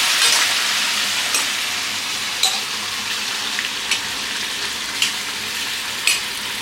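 Mutton kassa cooks in a pan with a loud, steady close-up sizzle, broken by a few sharp clinks of stirring about once a second in the later half; nobody speaks.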